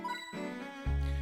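A hint coin is collected in the Professor Layton and the Last Specter video game, a short run of bright tinkling chime notes followed by a sustained shimmering jingle, clean and alone.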